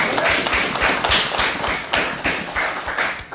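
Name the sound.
audience applause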